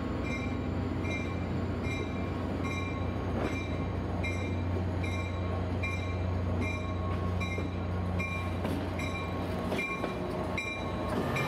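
A 1983 Amtrak Spirit of California passenger train rolls back around a curve toward the station, with steady rumbling wheels, rhythmic rail clicks and a sustained low drone, heard alone without talk.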